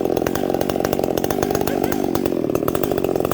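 Chainsaw with a partial muffler running at high revs, loud and close, its rapid rasping engine pulses steady and unbroken with no talk.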